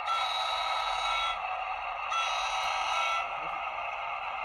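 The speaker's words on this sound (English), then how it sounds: "let's see what the horn sounds like" A model train locomotive's horn blares in two long sustained tonal blasts with a short gap between, loud and close, no talking.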